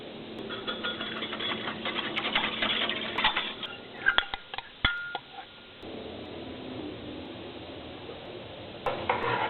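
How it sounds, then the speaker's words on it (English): Whisking two teaspoons of cornstarch into reserved cooking liquid for a crawfish etouffee sauce: a continuous scraping, rattling whisk against a bowl, with a few sharper clinks in the middle and a brief pause before it resumes. "Now we'll whisk the 2 teaspoons of cornstarch into our reserved liquid."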